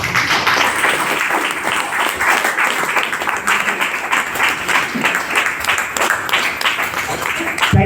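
Audience at a motivational event welcoming a guest with loud, dense clapping, many hands beating steadily and close for several seconds, with a few voices mixed in.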